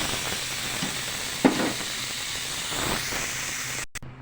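Garlic butter naan cooking in a pan on the stovetop, a continuous sizzle and hiss with a few soft knocks as it is turned, no talking, cutting off abruptly near the end.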